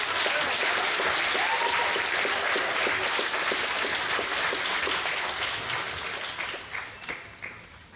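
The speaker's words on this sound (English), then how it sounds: "So please give him a big round of applause." Loud, sustained applause from an audience welcoming a speaker at a political talk, dense steady clapping that thins and fades out over the last couple of seconds, with no voices over it.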